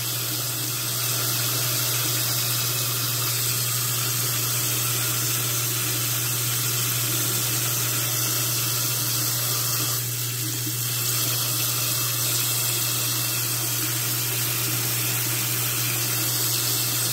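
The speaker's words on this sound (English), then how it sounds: "So it's starting to flush out now." Water flushes steadily out of the drain valve of a rusted water heater, a continuous loud hiss of flow with a constant low hum underneath and no talking.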